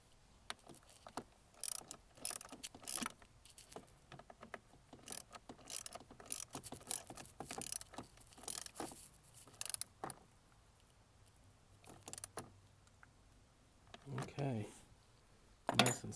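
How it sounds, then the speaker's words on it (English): A ratchet wrench with a 10 mm socket tightens the terminal bolt of a NOCO lithium-ion battery on a 2018 Honda Goldwing, giving quiet bursts of quick clicking in short irregular runs with pauses between strokes. "So I'll tighten it down with the 10 millimeter socket"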